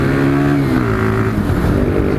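A Sinnis Scrambler motorcycle engine pulls hard under acceleration on a ride home in the rain, a loud, steady, buzzing drone whose pitch climbs and then settles, heard up close with no voices.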